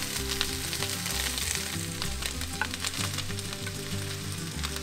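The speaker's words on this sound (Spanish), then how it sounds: "y las salchichas y los freímos juntos para que las papas tomen todo ese sabor y se sazonen." Potatoes and sausages frying together in a single pan, with a steady, dense sizzle and crackle beneath background music and occasional stirring.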